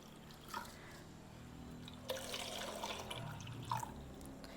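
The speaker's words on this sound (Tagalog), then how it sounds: "So, ayan, lalagyan lang natin ng tubig." Water trickles and splashes quietly into a vase holding indoor plants, with faint dripping sounds throughout.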